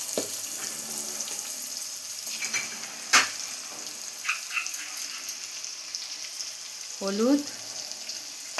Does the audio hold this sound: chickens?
no